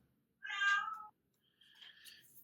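An indoor house cat gives two clear meows close by, a long drawn-out one followed by a shorter, rising one, with quiet in between.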